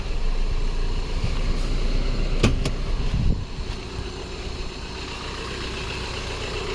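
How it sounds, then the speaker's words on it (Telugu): A 2015 Maruti S-Cross Zeta diesel engine idles with a steady, close rumbling hum. A couple of sharp clicks are heard near the middle, and the level settles slightly lower afterward. "ఒకసారి బండి స్టార్ట్ చేసి ఇంజన్ కూడా చూపిస్తాను."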